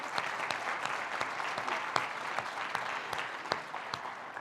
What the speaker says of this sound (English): So I'd like to give them another round of applause before I get started here